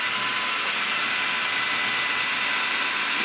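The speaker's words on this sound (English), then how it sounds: "So, take our drill." A power drill runs continuously while mounting a TV bracket to a wall, a loud steady high-pitched whirring close by, with no talk.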